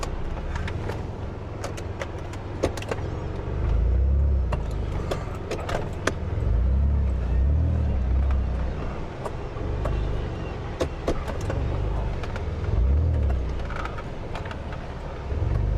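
A Coachmen RV stuck in beach sand, its engine droning low and surging in repeated revs as the wheels fight for grip, steady and close with faint rattles on top.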